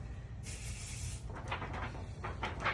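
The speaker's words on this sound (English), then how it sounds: "I'm going to spray the back of this with Pixie spray." A steady hiss of Pixie adhesive spray on the back of a sheet of paper lasts about a second, then stops, followed by soft rustling and handling noises.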